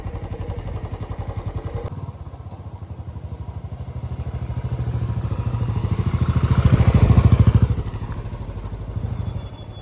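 A motorcycle engine running on a mountain road near Lachen, its steady throb rising in loudness toward the middle as it draws near, then easing, heard alone without talk.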